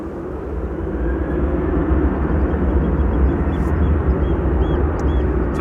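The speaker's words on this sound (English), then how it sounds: "Transavia flight 6147 to Alicante, 737-800" A Transavia Boeing 737-800 takes off from runway 18 left at Amsterdam Schiphol, a broad jet roar that builds steadily and holds, heard from a distance without speech.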